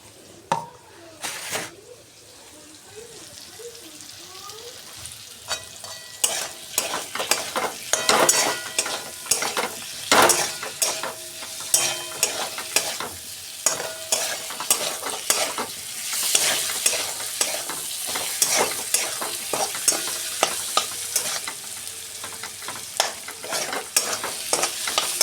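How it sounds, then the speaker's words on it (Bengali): Spiced potatoes for ghugni are stir-fried in a pan, sizzling loudly as a spoon scrapes and stirs in irregular strokes, the frying building in intensity and staying close throughout. "কষিয়ে আলুগুলো দিয়ে দেবো"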